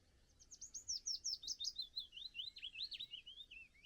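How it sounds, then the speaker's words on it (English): Songbirds outdoors give a rapid series of bright, repeated chirps and whistled trills, clear and fairly close against a quiet natural background. "when you're walking through areas like this, the bird song lets you know"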